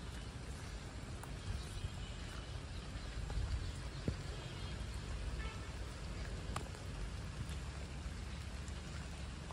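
Continuous monsoon rain pours down in a dense, steady hiss, with occasional louder drips and splashes standing out nearby.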